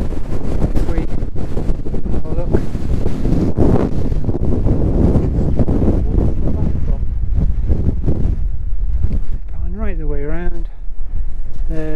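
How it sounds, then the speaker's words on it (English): Strong wind on an exposed hilltop in the Cheviot Hills buffets the microphone in loud, continuous roaring gusts, with a voice speaking under the rumble. "I'm not sure if you can hear it, but the wind's really got up."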